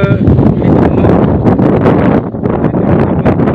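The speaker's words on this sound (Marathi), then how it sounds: "वारा चालय." Loud, gusty wind buffets the microphone with rough roaring bursts throughout, nearly drowning out any other sound.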